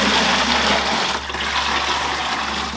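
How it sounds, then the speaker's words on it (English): Fish tank water poured into a bucket, a loud, steady rush and splash of water filling the container throughout, close by, with no talking. "Now I'm gonna get some of this tank water into a bucket."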